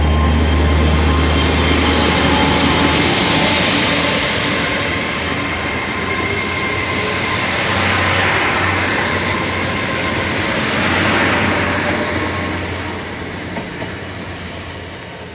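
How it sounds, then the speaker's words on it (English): A Hitachi train pulls out of Worle station with a loud, steady rumble and rolling wheel noise. A high whine sits above it as the sound slowly fades. "the Hitachi next to me. Oh, there she goes. She's leaving now as we speak."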